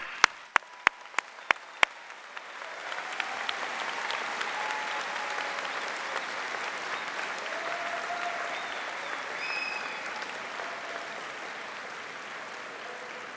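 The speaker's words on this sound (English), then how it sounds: "the most recent class of 2014 deserves a big round of applause" A large audience applauds the graduating class of 2014 at a university convocation ceremony; a few sharp individual claps open, then sustained broad clapping swells and holds steadily in a big hall, with faint voices beneath.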